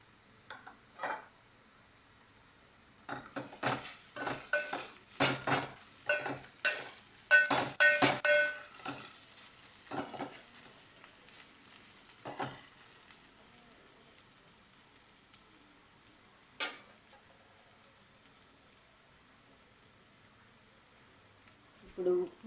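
Ginger garlic paste fries and is stirred in a pan, giving soft irregular scraping and sizzling bursts that cluster early and then thin out, fairly faint and close.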